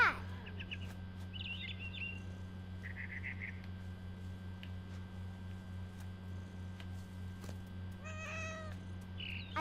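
In the game What Remains of Edith Finch, a cat gives a few short, quiet meows over a low steady hum, with bird chirps and calls scattered among them and no talking.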